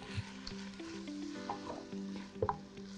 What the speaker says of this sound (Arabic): كده ادينا تشويحة للفراخ مع البصل والزبدة والزيت.